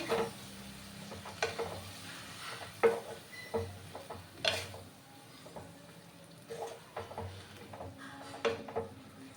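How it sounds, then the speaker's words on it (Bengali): Lentil dal with bottle gourd greens being stirred in a cooking pot, a quiet series of soft scraping and clinking strokes at irregular intervals, close by, with a faint sizzle underneath. "এবার আমি নাড়াচাড়া করে নেব আবার"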